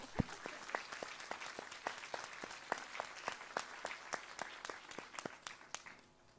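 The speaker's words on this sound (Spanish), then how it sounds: "a cargo da Ana Celeste Ferreira, para quem peço uma salva de palmas." An audience at a literary talk applauds a reading, with a steady wash of many hands clapping, sharp individual claps standing out, moderately distant and fading at the end.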